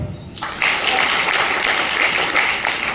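Seminar audience breaking into clapping after a brief lead-in, a dense, sustained round of many hands filling the hall and holding steady to the end.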